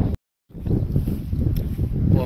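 Strong wind buffets the microphone at a wild camp in the Peak District, a rough low roar that drops out briefly at the start and then returns steadily.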